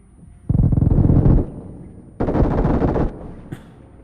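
Grenade explosion and gunfire from a PUBG-style shooter game, two loud, dense bursts of roughly a second each separated by a short lull, followed by a faint sharp click.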